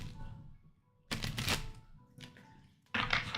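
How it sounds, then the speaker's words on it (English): Flexible gold-foiled card stock cards being shuffled, two or three brisk riffling bursts of papery flutter, close and loud, with no talk. "So when I go to shuffle them, they're a little difficult to shuffle."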